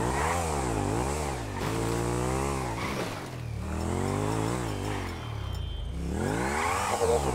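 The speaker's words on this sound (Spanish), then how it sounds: "Está trucada esta moto, tú." A souped-up motorcycle engine in GTA Online revs repeatedly, rising and falling in pitch through several loud bursts across the clip, with no talk.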